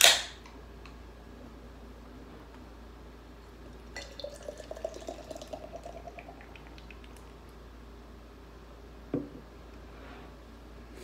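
King Cobra malt liquor is poured aggressively into a glass, with a sharp clink at the start, then a few seconds of quiet splashing and fizzing, and a brief clack near the end.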